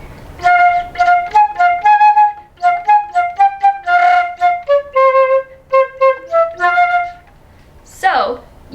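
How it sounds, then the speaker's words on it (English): Flute melody played with flutter tonguing, a run of loud, close, buzzing rolled notes in a steady rhythm with short gaps, ending in a quick rising-falling sweep. "So you can hear the flutter tonguing in that."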